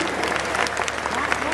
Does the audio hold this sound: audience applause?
yes